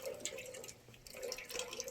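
Water dripping and trickling as it is collected in a community water-harvesting setup, a steady close patter of drops and running water with no voices.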